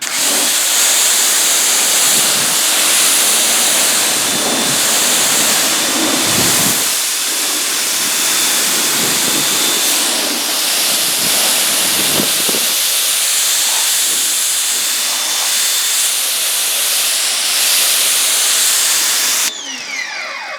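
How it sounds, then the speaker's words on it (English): Water spraying steadily onto car paint to rinse off an iron remover, a loud continuous hissing wash that runs without a break and drops slightly near the end. "Let me rinse it off just to show you how this stuff works."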